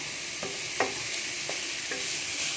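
Grated carrot fries in oil in a pan for biryani-style carrot rice, a soft steady sizzle broken by a few scraping stirs of a spoon, close and fairly quiet with no talking.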